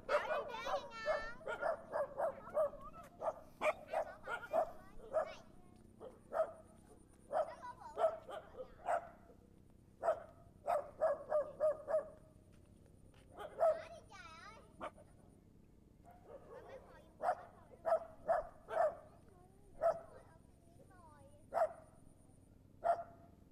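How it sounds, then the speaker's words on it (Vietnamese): Dogs in the countryside near U Minh, Ca Mau, bark in repeated sharp bursts and whimper and yip between them, fairly close, while people talk nearby. "Nãy mấy con chó nó chạy vô trong đó rồi bị động nữa rồi"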